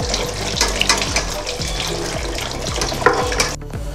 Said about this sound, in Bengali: শুধু ওই জলে এরকম ঘুরিয়ে ঘুরিয়ে ধুয়েছি